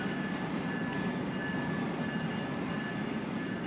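A westbound GO train pulls out of Oakville station with a steady rumbling roll of wheels and cars, close and continuous, with a faint high whine above.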